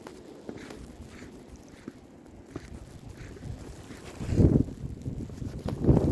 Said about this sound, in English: It's very cold and very windy.